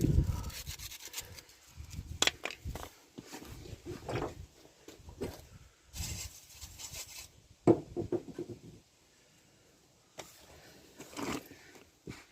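Scuffing over a Rover 75 brake clip caked with rainwater and muck, heard as uneven bursts of close, gritty rubbing and rasping strokes with brief pauses between them.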